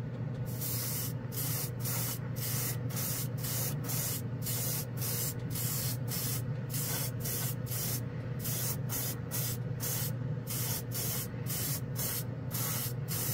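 An airbrush sprays Tamiya X12 paint in quick, evenly spaced bursts of close hiss over a faint steady hum, with no talking.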